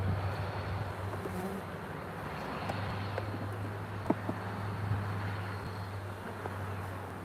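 Honeybees buzzing during a hive inspection, as a dense, steady drone close by with occasional faint clicks and knocks from handling.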